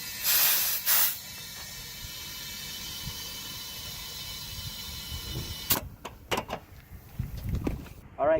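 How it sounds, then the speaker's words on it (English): A mini bike tire is pumped up with short hissing blasts of air at the start, then a steady low hiss for several seconds, followed by scattered clanks and a few more quick bursts close by. "you need to pump up the tire"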